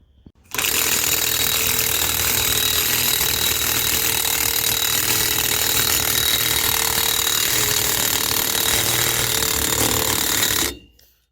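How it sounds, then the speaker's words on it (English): Wheel studs being pressed into a Duramax truck's wheel hub with a ball joint press, a loud, continuous, grinding mechanical rattle starting abruptly and running about ten seconds before cutting off, with no speech. "the easiest way to get these studs in is just use your ball joint press to get them set in there"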